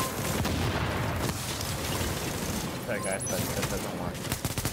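Rapid video game gunfire, including shotgun blasts, rattles loudly and almost continuously, with a short sorry-that-failed remark spoken over the shooting.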